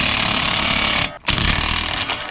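A DeWalt power impact tool hammers loose a part on a 2013 Dodge Dart during a front-wheel-drive clutch replacement, a loud, close, rapid rattling burst with a brief pause before it resumes.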